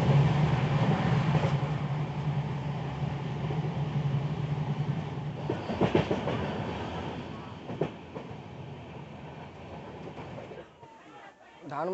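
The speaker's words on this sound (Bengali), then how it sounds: "ট্রেন যাজপুর কেওনঝাড় স্টেশনে পৌঁছে গেছে" Shalimar Puri Dhauli Superfast Express at Jajpur Keonjhar Road station, a low rumbling railcar with wheel clatter that slows and fades to quiet near the end, with a voice briefly in the background.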